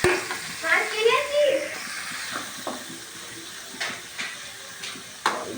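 Paneer fries in ghee in a pan, giving a soft sizzle and hiss. Scattered stirring taps and scrapes are heard close by while a person talks over the cooking.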